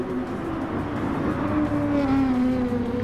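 Race cars No. 56 and No. 244 duel head to head in a Gran Turismo Sport Super GT race at Fuji, their engines droning loudly and steadily with a rising pitch as they accelerate along the track.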